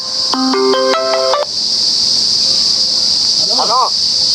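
A mobile phone rings with a short, bright melodic ringtone phrase lasting about a second. A steady high-pitched hum continues afterwards, and a brief chirp comes near the end.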